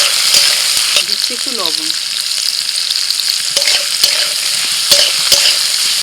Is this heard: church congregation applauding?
no